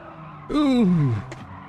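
A racing car on the Tsukuba circuit slides its rear end, and the tires give a loud squeal that bends downward in pitch for about three quarters of a second before fading under engine noise.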